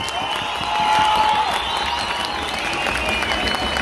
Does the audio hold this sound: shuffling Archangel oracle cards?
no